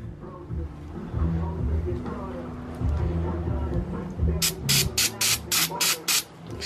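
Several quick sharp hisses from a spray bottle of cleaner onto a rag in a rapid series, following a stretch of someone talking nearby.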